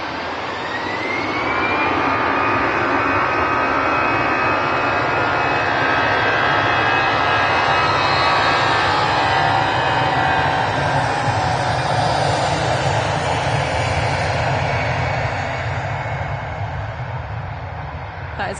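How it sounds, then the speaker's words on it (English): An EasyJet Airbus A320 jet takes off from Manchester Airport bound for Belfast, its engines roaring loud and steady throughout with a rising whine early on, heard alone without voices. "That is off to Belfast. It's an A320 from EasyJet."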